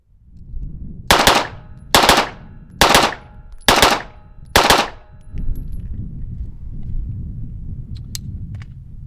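Five loud, sharp handgun shots crack at an even pace about a second apart during shooting practice. Each blast is close and percussive with a short ringing tail, followed by quiet range ambience.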